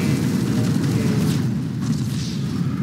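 A heavy, rumbling explosion roar from a plane bombing in the video game GTA5 rolls on continuously, loud and dense, fading slightly toward the end.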